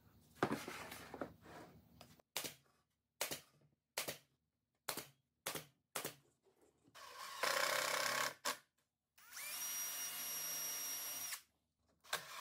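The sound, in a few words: power drill pre-drilling screw holes in plywood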